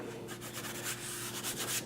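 Filler being sanded by hand during finishing work, producing a quiet, continuous rasping rub with rhythmic strokes and no talking.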